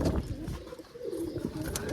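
Pigeons coo softly nearby in low, rolling murmurs, with some rustling and shuffling around them.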